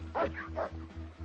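Dogs barking outdoors, two or three sharp barks and a yip spaced across a second, moderately near over a steady low engine-like hum.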